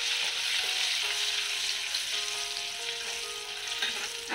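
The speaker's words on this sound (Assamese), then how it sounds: "এইখিনি অলপ ভাজি লম" Ginger, garlic, bay leaf, turmeric, coriander powder and panch phoron fry in hot oil in a kadai for a jackfruit pickle, giving a steady, close, continuous sizzle with no talking.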